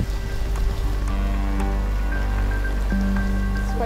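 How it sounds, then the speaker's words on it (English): Torrential rain pours down steadily during a search for a stranded animal in Australia, a dense, continuous wash of noise with scattered drips and taps throughout. "The rain is absolutely torrential."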